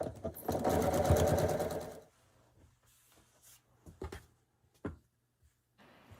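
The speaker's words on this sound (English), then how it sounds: "So we're just going to sew three rows and sew the rows together." A sewing machine stitches quilt block rows together in one loud continuous two-second run, followed by quieter handling clicks and small taps.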